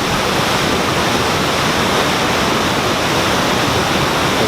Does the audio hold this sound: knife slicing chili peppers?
no